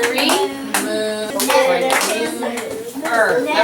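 Children clap a rhythm together in a classroom music lesson, sharp bursts of hand claps in an uneven counted pattern, loud and close, with children's voices chattering between and over the claps.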